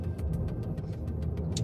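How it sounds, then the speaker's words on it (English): Citroen C6 tyres and suspension pattering over small road imperfections: a steady low rumble inside the cabin with faint repeated light taps at regular intervals, no talking. "the overriding noise actually is the suspension, is the tyres and the pitter-patter over the smaller imperfections"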